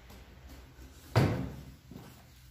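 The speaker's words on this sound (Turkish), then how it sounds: "Çekiyoruz çekmeceyi." A drawer slides out on a telescopic rail in one quick, fairly loud scraping pull that fades over half a second, followed by a softer second shift of the drawer in a quiet room.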